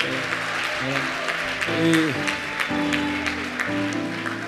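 A church congregation applauding and acclaiming during a sermon, a dense close wash of clapping mixed with voices and cheering that swells and dips over a few seconds.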